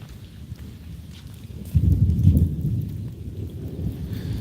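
Low rumble of thunder rolling in during outdoor rain while trees are being planted, swelling in the middle and then lingering as a steady low background roar, with no talk.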